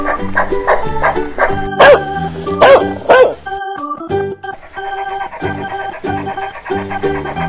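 A dog barks and yips several times in quick bursts over steady music, close and fairly loud.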